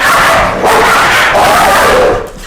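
A dog barks loud and close indoors, a few rough, strained barks that run together into a continuous harsh outburst with no speech.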